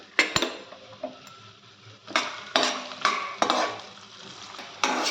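Garlic and onion being sautéed in a pan, with bursts of spatula scraping and stirring against the metal over a soft sizzle, the clattering strokes coming in irregular clusters with short pauses between.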